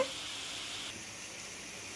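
Onions frying for onion chutney give a steady, even sizzle in a pan that holds close and constant throughout, with no voices.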